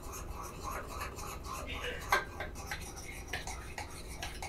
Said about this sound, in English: for mixing the sugar and the butter together